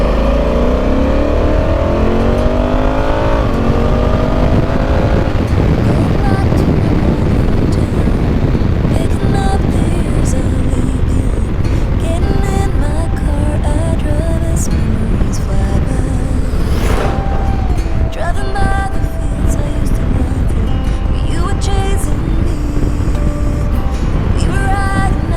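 A Honda Africa Twin adventure motorcycle riding along, its engine note droning steadily and loudly under heavy wind rush throughout, with a brief higher whine as it revs.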